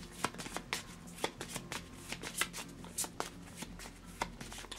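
Cards from a Transformers deck-building game being shuffled by hand, a close run of quick crisp riffles and snaps repeating steadily over several seconds with no talking.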